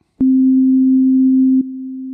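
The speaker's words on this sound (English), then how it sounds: "a synth patch I created that just changes in volume" A steady low synth patch tone holds one pitch, loud at first, then abruptly drops to a quieter level while continuing unbroken, with no voices present.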